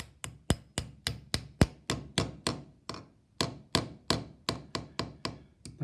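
A hammer taps a roll bolt fitted with a large washer into a living room wall. Around twenty sharp, evenly paced strikes sound close and clear.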